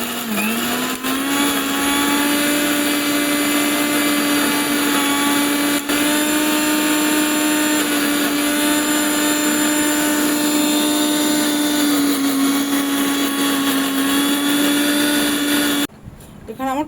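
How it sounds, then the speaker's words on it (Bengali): An electric mixer grinder blends a small batch of ginger and green chillies into paste, giving a loud, steady motor whine that runs without a break before cutting off abruptly near the end. "আমি এটাকে বেটে নেব"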